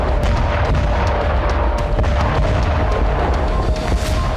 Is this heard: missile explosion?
yes